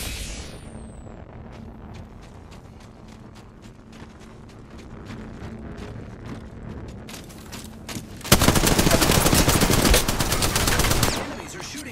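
Rapid automatic gunfire in Apex Legends, a long run of evenly spaced shots that builds to a dense, loud burst of fire near the end, with faint talk underneath.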